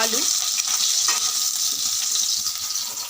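Cumin seeds and dried red chillies tempering in hot oil in a wok, a steady close sizzle with a brief crackle at the start.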